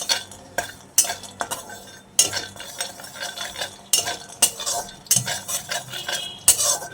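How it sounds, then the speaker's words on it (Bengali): Peanuts dry-roast in a dry wok and rattle and scrape as a spatula stirs them in quick, repeated strokes with metallic clinks. There is no sizzle and no one speaks. "শুকনো কড়াইয়ের মধ্যে আমি একটু বাদামটা ভেজে নিচ্ছি, মানে নাড়িয়ে নিচ্ছি"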